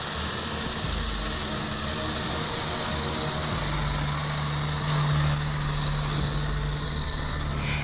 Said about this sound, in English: the Lamb-track snowplow charges forward with brute determination, its heavy steel blade slicing through dense, compacted drifts